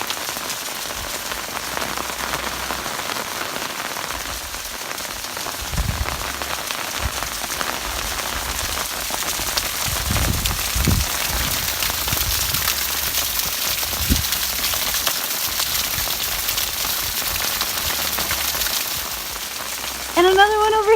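Steady rain patters on surfaces in the desert with a broad hiss, a few heavier drops and splashes standing out, constant and close throughout.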